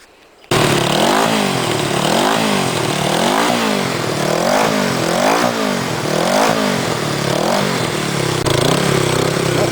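A 33-year-old Honda motorcycle fires up and revs repeatedly, its engine rising and falling in steady, loud surges close by, with no talking over it.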